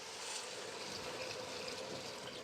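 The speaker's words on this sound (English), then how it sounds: "Now we add cold water." Cold water poured from a tap or jug into a minestrone pot, a steady broadband rushing trickle that runs evenly for the whole stretch at moderate loudness, alone with no talking.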